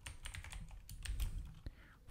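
Quick, close clicks of computer keys as code for a Node.js Express server is typed, a brief rapid run of soft keystrokes with a faint voice underneath.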